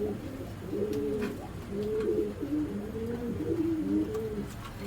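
Jabra pigeons coo close by in repeated rolling, throaty phrases that overlap in a steady rhythm over a faint background hush, with no talking.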